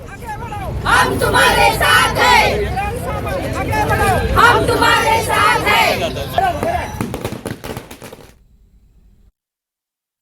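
Party workers celebrating outside a party office at Jaystambh in Ratnagiri after Uday Samant's swearing-in as minister, a loud, dense crowd chanting slogans in rhythmic bursts for about eight seconds before it cuts to silence.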